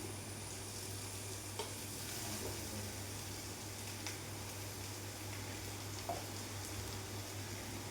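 Onions softening in a pan with salt and a pinch of chilli for a drumstick thoran, giving a faint, steady sizzle with light stirring scrapes over a constant low hum, and no talking.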